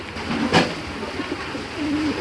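A Giribaz pigeon coos softly in a couple of low, rolling phrases, close by, with a brief sharp click partway through and light background noise.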